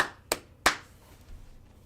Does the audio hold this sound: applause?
yes